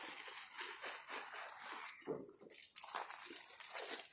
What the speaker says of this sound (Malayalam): വെള്ളം നനച്ച്